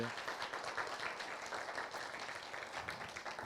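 Congregation applauding at an in-person church worship service, a steady wash of many hands clapping at moderate, somewhat distant level throughout with no talk over it.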